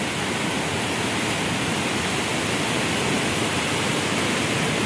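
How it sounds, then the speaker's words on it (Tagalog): Torrential water roars over Wawa Dam, a dense, continuous, powerful rush that stays loud and unbroken from start to finish with no other sound cutting through. "Dito lang sa Wawa Dam oh. Lakas ng tubig oh guys oh."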